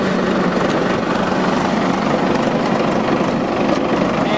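A dump truck's engine runs in gear, a loud, steady broadband drone with a low rumble that holds constant throughout, no voices over it.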